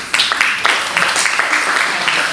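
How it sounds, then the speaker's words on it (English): An audience at a project management talk claps together, a loud, brisk burst of applause with distinct individual claps and a little voice underneath. "give him a round of applause"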